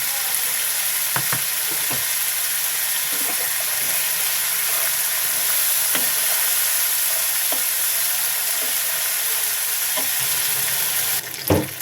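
Mashed green banana stir-fried in a pan, a steady loud sizzle and hiss with intermittent scraping knocks of the spatula stirring, close and continuous without talk.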